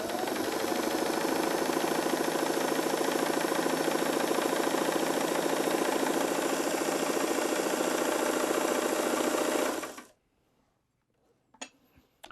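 A vintage Singer 327 sewing machine runs steadily for about ten seconds while stitching dense 2 mm stitches. The close, continuous mechanical whir stops abruptly, followed by a few faint clicks.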